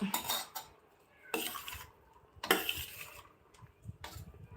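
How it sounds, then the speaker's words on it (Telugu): A spoon scrapes and clinks in bursts against a steel vessel while lemon rice (pulihora) is mixed with added salt, close and fairly soft, with quiet pauses between strokes. "కొద్దిగా సాల్ట్ యాడ్ చేసుకుని ఇప్పుడు బాగా మిక్స్ చేయాలన్నమాట"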